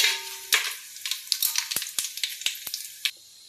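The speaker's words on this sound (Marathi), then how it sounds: "तेल छान असं कडकडीत गरम झालेलं आहे. त्यात आता मी खडे गरम मसाले टाकते." Whole garam masala spices dropped into very hot oil give a sharp sizzle and crackle, with a string of distinct pops and spits ringing out over the steady frying hiss in a close kitchen.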